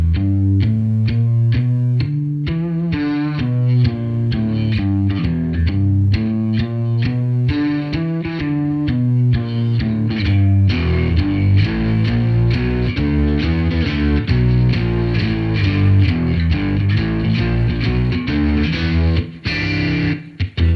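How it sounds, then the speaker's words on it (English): Distorted electric guitar power chords chug in a steady rhythmic pattern, loud and close, shifting through a bluesy progression without any talking. "you can play power chords along the blues scale"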